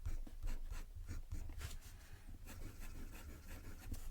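Fine-nib fountain pen moving over paper in soft, rhythmic strokes, a faint close scratchy rub repeating every fraction of a second.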